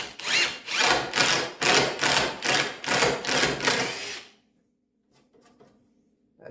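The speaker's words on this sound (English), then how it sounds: "We're gonna use this countersink drill bit." A power drill fitted with a countersink bit bores holes in cherry wood, whirring loudly in about eight quick, even pulses before stopping, followed by faint handling clicks.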